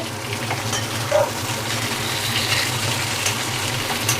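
Semai for payesh being stirred in a pan over the heat, a steady soft sizzle with faint scraping and one brief clink, no voices.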